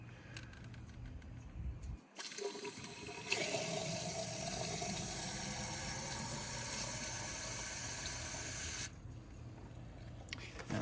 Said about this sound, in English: Let's put some water in this thing and see if we see it leaking anywhere else